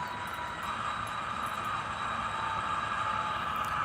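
A model Norfolk Southern "Top Hat" DASH-9 locomotive idles and hums steadily as it begins to move forward, a continuous close motor drone with no talk.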